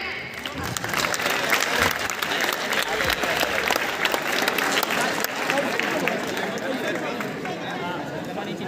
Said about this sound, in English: please give a big round of applause for next program